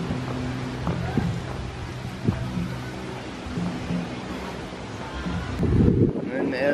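Steady wind buffets the microphone with a low rumbling roar on a beach at a resort in La Union, Philippines, gusting louder toward the end, with faint background sounds beneath.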